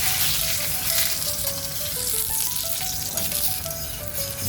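Food frying in desi ghee on a pan gives a steady, close sizzle and crackle, with a faint melodic tone running underneath.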